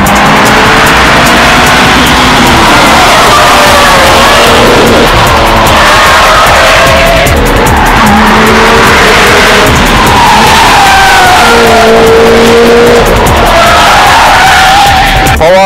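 A Mitsubishi Lancer Evo IX, heard from inside the cabin, revs hard through its gears, the engine note climbing and dropping repeatedly in loud, continuous waves with tire and road noise underneath.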